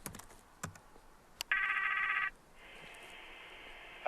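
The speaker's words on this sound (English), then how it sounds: "I simply have to open the application and dial Lee's number" A video-call app on a portable satellite broadband terminal dials out: a short run of taps and dial tones, then a steady electronic ringing tone that starts, pauses, and resumes, fairly loud and with no talking.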